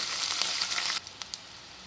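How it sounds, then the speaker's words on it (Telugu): Dry red chillies and crushed garlic fry in hot oil, giving a steady bright sizzle for about a second before it drops to a quieter hiss broken by a few short crackles. "ఇప్పుడు దీన్ని కాసేపు వేగనిద్దాం."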